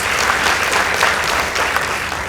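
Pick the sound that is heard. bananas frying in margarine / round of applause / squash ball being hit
round of applause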